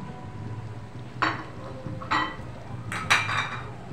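Bottle gourd and fried dried fish being stirred in a pan, heard as three or four distinct scraping clinks of a metal spoon against the pan over a low steady background hum, with no talking.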